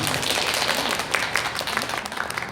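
A studio audience at a Korean talk show claps and applauds continuously, a dense patter of many hands with faint crowd noise underneath.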